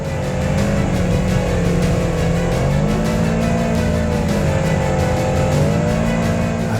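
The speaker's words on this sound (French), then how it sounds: "Difficile d'extraire ma petite Versys X300 du sable et encore plus difficile de rouler sans poser" Kawasaki Versys X300 motorcycle ridden through sand dunes near Merzouga, Morocco: a loud, continuous engine drone, close to the microphone, its pitch rising and falling as the rider works the throttle, mixed with rushing wind and no speech.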